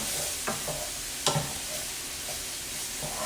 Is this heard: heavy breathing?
no